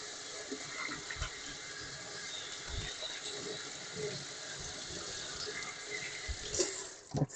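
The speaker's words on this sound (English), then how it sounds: "I'm gonna wash my hands" Tap water runs steadily into a kitchen sink while hands are washed beneath it, a continuous splashing hiss with small irregular splatters throughout and a few louder gushes near the end.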